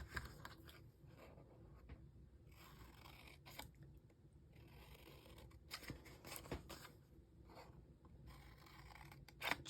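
Scissors cutting through patterned paper for a 3D lip balm holder, giving quiet, close, irregular snipping and rustling strokes that run throughout with no talking.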